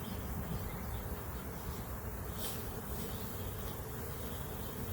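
A dense, steady hum of honeybees fills the air inside a hive as they cluster around a caged queen. The buzzing is continuous and close, with no voices.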